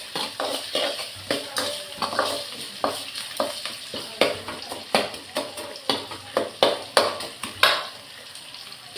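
Pepper kulambu ingredients being sautéed and stirred in a pan, with steady sizzling and frequent sharp scrapes and clinks of a spoon against the pan at close range, no voices.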